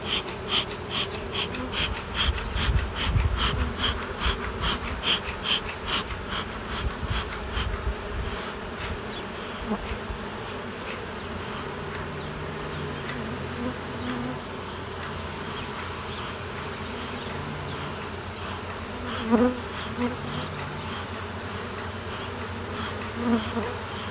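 A dense, steady buzz of many honey bees around an open hive fills the space, close and continuous, with occasional soft thumps and puffs underneath, as smoke drives the bees down.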